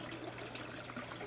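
Water from a submersible pump rises through a vertical pipe to a small manifold and is split into four aquaponics flood and drain trays, making a steady, soft trickling and splashing that runs without a break.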